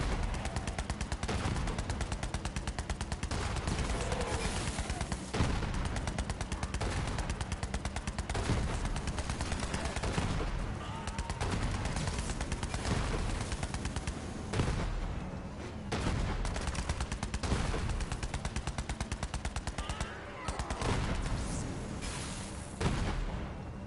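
Sustained rapid gunfire from shooting in the video game Borderlands 3, dense bursts of automatic weapon fire hammering continuously at high volume with brief gaps, no speech over it.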